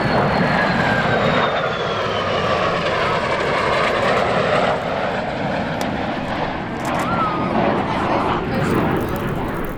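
MiG-29 and MiG-17F jet fighters flying together in an airshow sunset display, a loud continuous engine roar with slowly shifting whine, people talking in the background.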